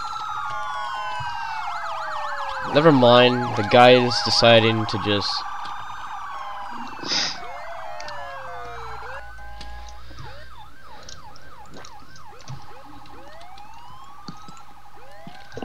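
Siren from an ambulance in a video game wails and yelps through rising and falling sweeps, loudest in a burst of overlapping tones early on, then thinning to repeated fast yelps as someone talks over it.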